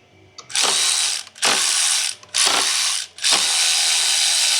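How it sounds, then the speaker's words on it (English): Ratchet socket wrench loosening the 10 mm bolts on a 2013 Ford Fiesta 1.6 Sigma engine during timing belt work: four loud, close bursts of rapid clicking, each about a second long, separated by short pauses. "So we've got all that space now to get a socket on these 4 10 mils."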